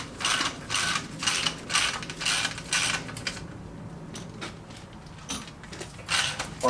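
Nut being tightened with a ratchet on the rear shock absorber rod of a Renault Twingo 1, a series of close clicking ratchet strokes in bursts with brief pauses.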